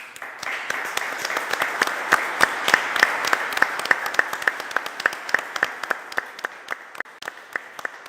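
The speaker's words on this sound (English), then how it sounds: "So I will ask a final round of applause to our four panel speakers." An audience at a national defence conference on space applauds its panel speakers. The dense, close clapping thins toward the end into sparser individual claps.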